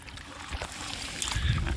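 Rainwater runs and trickles along a channel after heavy rain, a steady wash of flowing water with faint splashing and low rumble underneath.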